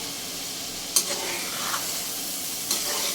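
Potatoes and chillies fry in a pan for aloo palak with a moderate, even sizzle, and two sharp clicks from a utensil stand out over the hiss.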